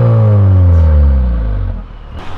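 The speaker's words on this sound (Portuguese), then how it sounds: "Sempre gosto de acelerar aqui, ó. O barulho do carro, ó." A Volkswagen Jetta TSI engine revs hard, a loud low rumble with rising harmonics that swells then falls away over about two seconds, close and alone with no talking.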